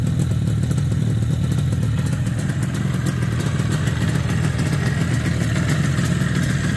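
An IZh Jupiter 4 motorcycle engine with Suzuki TS 185 pistons idles steadily at low revs, a continuous close rumble with faint mechanical clatter and no voices.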